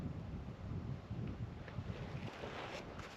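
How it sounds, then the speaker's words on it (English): Strong wind gusting across an exposed hilltop on Pendle Hill in fog, a continuous low rumbling buffet on the microphone with surging gusts, loud and close, with no voices. "it's too windy"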